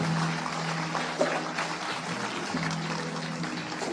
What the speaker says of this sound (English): How about a nice round of applause for the group